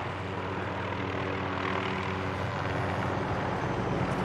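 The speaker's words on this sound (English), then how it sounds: "Barkov is sending in helicopters." Helicopters approach in the Call of Duty: Modern Warfare (2019) video game, a steady, dense engine and rotor drone that fills the scene loudly and evenly without breaks.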